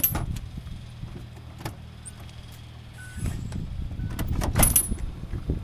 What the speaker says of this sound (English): Power sliding door.